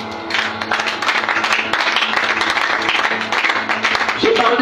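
A church congregation applauds and cheers steadily at a sermon gathering, the dense clapping loud and continuous for several seconds, with voices and a faint tonal backing mixed underneath.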